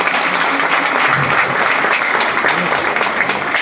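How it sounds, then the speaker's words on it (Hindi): An audience at a ration kit distribution and honoring ceremony for domestic workers claps loudly and steadily, a dense continuous wash of applause with faint voices underneath. "एक बार तालियां भी बजा दो भाई जोर से।"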